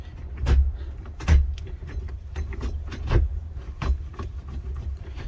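Loose parts of a makeshift A2B shifter mount rattle and knock in a rough, irregular series of thuds and clunks, close by and fairly loud, with no talking.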